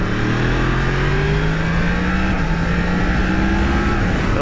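A 2020 Yamaha MT-10 super naked motorcycle engine drones loud and close, its pitch climbing slowly and steadily as it revs, with no voices.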